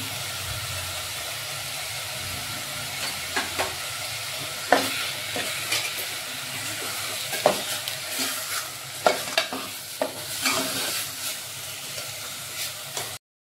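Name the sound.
onions frying with salt in a pan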